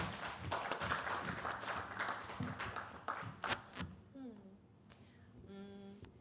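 A congregation at a Sunday youth worship service claps in a short, lively burst of applause that fades after about three seconds, followed by a person speaking.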